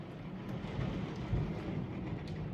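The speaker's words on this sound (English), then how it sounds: "Thunder!" A faint, distant roll of thunder rumbles low through a storm, mixed with a steady hiss of rain, heard quietly from indoors and alone without voices.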